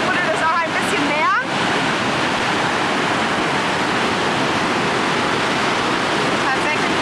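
Water gushes and churns steadily in a river beside a canoe rental spot, a loud, continuous rushing wash close by, briefly overlaid at the start by a short rising tonal sweep.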